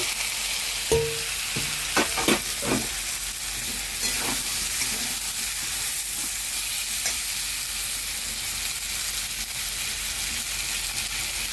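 Vegetables drop into a pan of chicken curry with a few clattering knocks and stirring scrapes, then steady oil sizzling hisses on continuously throughout.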